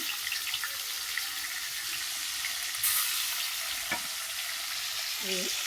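Hilsa fish fry in oil over a wood-fired stick stove, giving a steady dense sizzle throughout with a faint clink or two, heard close and without talk.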